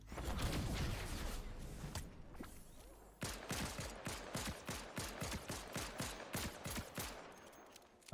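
Rapid bursts of gunfire from a weapon in Fortnite Zero Build, a dense volley of sharp shots followed by a short pause and then a fast regular string of about a dozen cracking rounds.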